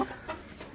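A hen in a backyard coop gives a few soft, low clucks close by, with short murmuring calls spaced through a brief moment and no voices over them.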